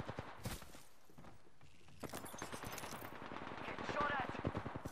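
Rapid bursts of automatic gunfire in an online shooter game, crackling in quick volleys over a busy backdrop of footsteps and effects, with a voice talking over part of it.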